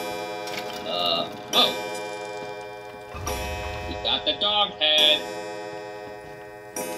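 A clock ticks steadily in Resident Evil 7, played in VR, with a regular beat under and between spoken voices.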